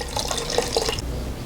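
Vodka pours into a container, a steady liquid trickle with small splashing drips, close and moderately quiet, lasting about a second and a half.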